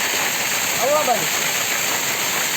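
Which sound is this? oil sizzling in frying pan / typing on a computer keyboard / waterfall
waterfall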